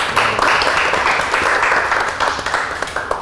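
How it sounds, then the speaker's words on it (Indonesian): An audience at a live podcast recording in Yogyakarta applauds, a full burst of clapping that thins toward the end into scattered, distinct individual claps. "Tepuk tangan boleh untuk."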